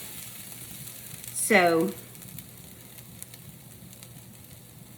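Sliced onions caramelize in a hot pan with a steady, soft sizzle, briefly overlaid by a single spoken word near the start.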